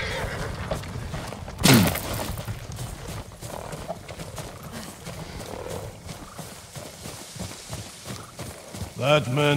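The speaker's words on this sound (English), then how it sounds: "Follow those horses." Horses in the video game Ghost of Tsushima, hooves clopping in a steady rhythm with a loud whinny early on and another near the end, under game music and voices talking.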